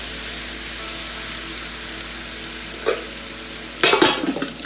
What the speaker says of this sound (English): And stirring those potatoes.